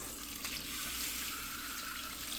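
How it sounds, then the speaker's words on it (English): Tap water runs steadily into a pan and over a cooked egg at a kitchen sink, a continuous close hiss with no talking over it. "then put the egg under some water and put the pan under some water."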